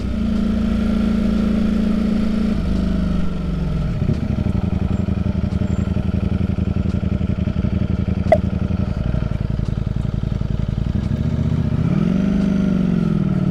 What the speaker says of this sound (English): Most of the time, that increase in volume, it's actually the exhaust valve.